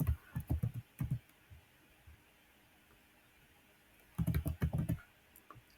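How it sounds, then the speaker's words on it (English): Bursts of quick keystrokes clatter on a computer keyboard, one short flurry at the start and another after a pause of near silence, faint and close. "So we're just going to type in Clear Contact"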